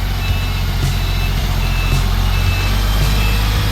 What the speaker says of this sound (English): This is a 50-meter concrete pump truck.